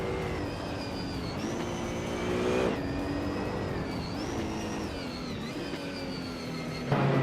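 Racing cars such as an Opel Astra, Audi A4, Mercedes-Benz CLK and Renault Fluence whine around a tight-cornered track in a racing video game, engines rising and falling in pitch through shifts, steady and close, no voices.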